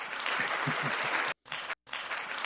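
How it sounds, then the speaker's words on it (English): An audience claps in a continuous dense patter during a podcast taping, the sound cutting out twice in short gaps before resuming at the same level. "let's give him another round of applause"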